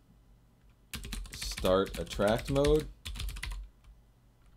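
Steady typing on a computer keyboard runs under a voice speaking several words at close range, with soft rapid key clicks carrying on before and after the talk.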